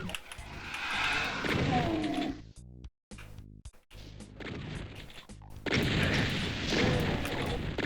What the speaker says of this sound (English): I think that's a shotgun, not the barrel.